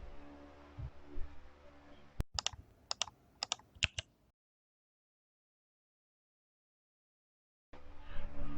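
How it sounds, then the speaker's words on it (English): Typing on a Keebio Viterbi revision 2 split ortholinear keyboard with 70 programmable keys: a handful of crisp, close keystrokes in a quick burst over background noise, then silence before the ambient sound returns. "This keyboard is a viterbi revision 2 keyboard by Keebio."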